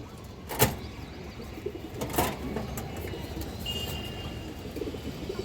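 A khaki male pigeon coos softly against a steady background hum, with a couple of sharper brief sounds early on and faint chirps mixed in.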